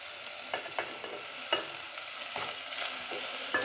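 Spices with green chillies and capsicum fry gently over a low flame, a soft steady sizzle punctuated by light stirring scrapes, heard close with no voices.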